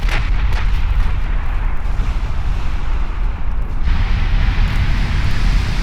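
Battleship main guns firing in the naval combat game Ultimate Admiral Dreadnoughts, a loud continuous rumble of heavy gunfire and booming blasts that swells again near the end.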